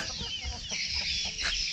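Chickens cluck on a rural farm in the countryside, close by and fairly soft. Their clucks come as short, uneven calls over a low background murmur.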